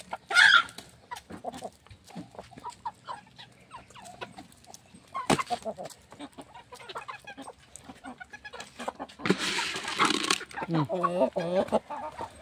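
Pet roosters and hens of a large giant breed clucking and calling outdoors, with a sharp crow-like call early and bursts of noisy squawking near the end, amid scattered rustling and someone speaking.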